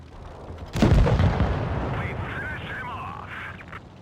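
A tank cannon fires once in a tank video game, loud and deep, with a boom that rolls on and fades over a few seconds while faint mechanical tones follow.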